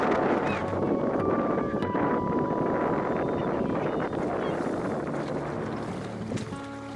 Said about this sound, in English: It's super freaking windy and foggy.